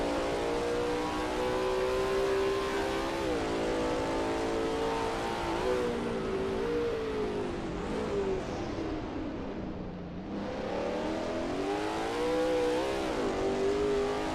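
Lola T70 MkII Spyder race car engine at Sebring in a racing video game, a loud, steady high-pitched roar with rising and falling revs through gear changes, a brief dip mid-lap, with no talk.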